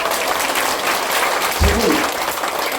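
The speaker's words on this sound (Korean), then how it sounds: "박수 한번 쳐주세요" Audience applause at a Korean health lecture on nitric oxide, a steady dense wash of clapping throughout with a brief low thump partway.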